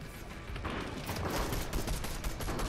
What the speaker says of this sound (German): Ich hab den aus dem Busch geschossen